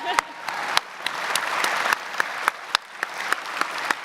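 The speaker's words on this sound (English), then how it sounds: "Applause." Applause from the crowd at a law school commencement diploma ceremony, a steady dense clapping wash with sharp individual claps and cheers popping out near the microphone.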